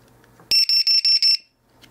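A Hobbyking 2-8S cell checker sounds its low-voltage alarm: five rapid, loud, high-pitched electronic beeps in quick succession, close and alone, followed by quiet.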